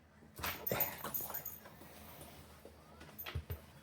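A dog whines and whimpers eagerly at feeding time in a home kitchen, producing soft high yips and snuffles close by, with faint background noise and a few soft knocks.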